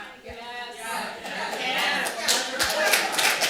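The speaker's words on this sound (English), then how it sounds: "The rest of you are applauding." Applause from an audience at a panel session on Jews and elite universities, a mid-level burst of clapping rising and holding steady, with voices talking over it.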